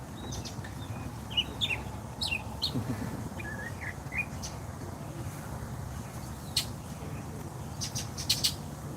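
Outdoor birds chirping and tweeting in scattered short calls during a walk, fairly faint over steady wind rumble, with occasional brighter chirps near the end.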